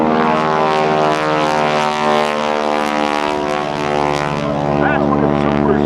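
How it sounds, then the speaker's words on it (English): A 450-horsepower Super Stearman biplane flies at an airshow, its radial engine roaring loud and continuous with a throbbing propeller drone that swells slightly; an announcer talks over it. "That's what a Super Stearman sounds like, 450 horsepower."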